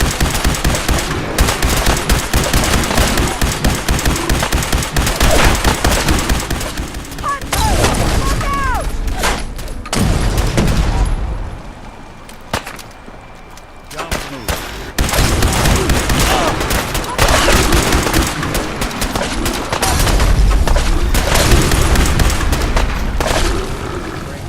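Fallout 4 Far Harbor gameplay, with dense bursts of automatic gunfire and booming shots during a fight against monsters in the fog, loud and nearly continuous, while a voice speaks over the shooting.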